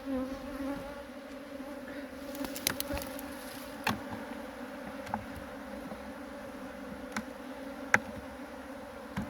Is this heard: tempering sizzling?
no